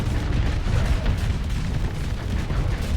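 Torpedo impact in a naval combat video game: a muffled, rumbling explosion with a low boom that lingers through the whole moment, moderately loud with no talk.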